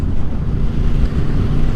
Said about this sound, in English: I'm coming head on into wind and I'm not even getting blown around that much